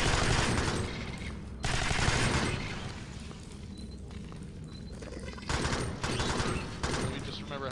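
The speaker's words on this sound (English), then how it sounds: "Don't shoot at me. Those are bullets. Those hurt me." Sustained bursts of automatic gunfire in the Alien Swarm video game, loud and nearly continuous with a couple of short breaks, heavy rattling fire dominating the whole stretch.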